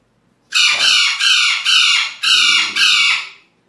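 A chicken squawks loudly and close, five long harsh calls in a steady run with brief gaps between them.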